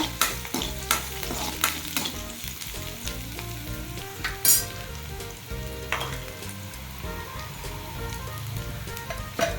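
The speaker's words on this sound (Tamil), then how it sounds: "வெங்காயம் வதங்கிறதுக்கு கொஞ்சமாக உப்பு போட்டுக்கலாம் இதையும் நல்லா வதக்கிக்கோங்க" Chopped onions sauté with a little salt in a hot pan, a steady loud sizzle broken by repeated scraping stirs of a spatula, with no voices.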